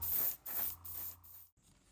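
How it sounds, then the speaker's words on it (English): Wet, rhythmic rubbing strokes of 4000-grit wet sandpaper on the slick clear coat of a Revell Pontiac Fiero GT model car, several back-and-forth passes with brief pauses between them, close up. "I hit it with some 4000 grit wet sanding"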